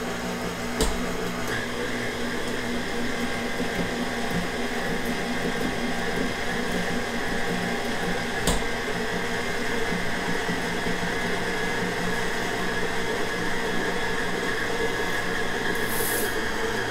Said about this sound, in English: with this mixer, I sometimes lift it up a little bit because the dough hook doesn't get all the way down to the bottom